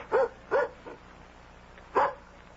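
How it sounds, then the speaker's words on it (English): A dog barks three times, short sharp woofs in an uneven rhythm with a longer gap before the last, fairly close with quiet background. "It's just the dog."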